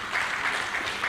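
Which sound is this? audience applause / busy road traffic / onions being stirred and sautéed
audience applause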